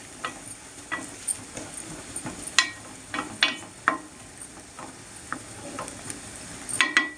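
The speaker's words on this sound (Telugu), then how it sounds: "3 ఉల్లిపాయలు వేసాను ఫ్రెండ్స్. మగ్గనివ్వాలి ఫ్రెండ్స్, ఉల్లిపాయలు మగ్గనివ్వాలి." Chopped onions cooking in a pan for a prawn and green mango curry, a soft steady sizzle broken by scattered light clicks and scrapes of stirring, with no talk.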